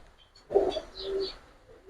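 Giribaz colouring pigeons give a short, soft cooing call, faint and fairly close, with a brief pause between low throaty notes.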